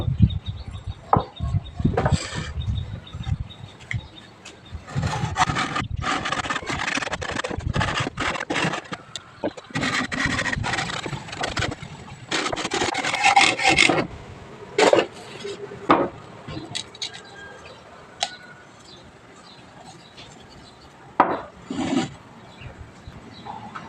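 Bamboo cups being cleaned and shaped by hand with a blade, making repeated irregular scraping and shaving strokes in bursts of varying loudness, close by and with no talking.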